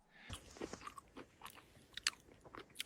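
Crunchy breakfast being bitten and chewed close up, a series of irregular crisp crunches, quiet and alone with no talking.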